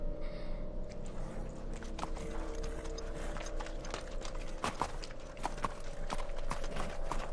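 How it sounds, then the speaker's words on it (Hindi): Horse hooves clip-clop in an irregular series of sharp, close knocks over a low rumbling background, with mechanical clicking mixed in. "घोड़े का नाम है मोरहन बॉय।"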